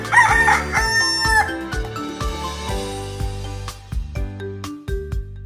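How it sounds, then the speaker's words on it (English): A rooster's crow rings out at the start, loud and close, then gives way to a bouncy, repeating musical backing of plucked notes. "Rooster."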